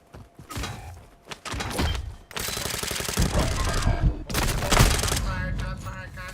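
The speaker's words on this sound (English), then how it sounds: "Shots fired. Contact. Contact." Gunfire in the DMZ military video game, with several loud rapid bursts and volleys separated by short gaps, close and punchy, with some background voice.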